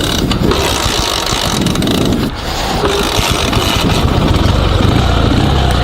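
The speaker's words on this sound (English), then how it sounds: "then the engine is cold. It starts in better way, I would say." Dnepr 16 2WD sidecar motorcycle engine running at a fuel station, a steady loud mechanical drone with a dense low rumble and a brief dip partway through, no voices.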